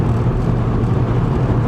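A Volkswagen VR6 car driving, its steady engine hum and road noise loud and close throughout with no talking.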